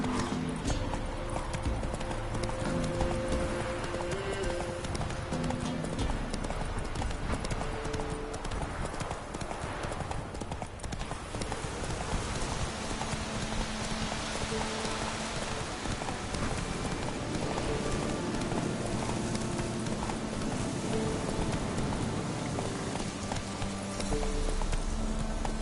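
Roach the horse galloping in The Witcher 3, a continuous dense clip-clop of hooves running for the whole stretch, loud and close, with a brief whinny-like sound and a short spoken exclamation.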